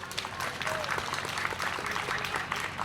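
Audience at Plainfield's 2021 National Night Out ceremony claps steadily for a commissioner's introduction, a dense, even wash of many hands at moderate loudness that holds throughout, with a faint voice briefly underneath.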